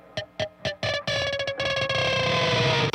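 A high-gain distorted electric guitar, run through a stereo width plugin but heard summed to mono, plays several sharp separate stabs and then sustained, ringing chords, loud and close.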